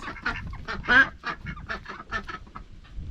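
Ducks on a farm give a run of loud, close, nasal honks and quacks in quick irregular bursts, with no talking.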